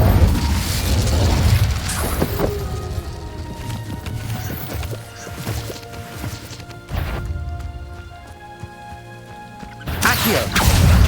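Fire spell and other spell effects in a Harry Potter video game, a dense run of loud crashes, booms and whooshes with mechanical clatter, bursts coming in waves with a final heavy impact.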